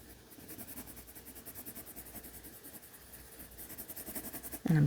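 A light brown colored pencil is shaded back and forth across drawing paper to fill in the liquid of an apple cider drawing, giving a steady, close, rhythmic scratchy strokes throughout with no voice.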